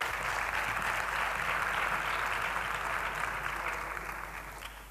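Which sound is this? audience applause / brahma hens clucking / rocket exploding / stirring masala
audience applause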